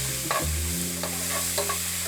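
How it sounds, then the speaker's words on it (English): Onions and garlic stirred in a hot pan, a steady frying hiss with a few soft scrapes of the utensil, fairly quiet and close, no talk. "Give a little bit of stir."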